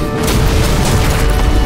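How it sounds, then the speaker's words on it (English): A heavy explosion from an episode of the animated series Star Trek: Lower Decks: a loud, dense roar of rumbling low end and crackling noise that stays at full strength for the whole stretch, with no talk over it. "But not enough time to avoid the explosion that kills him"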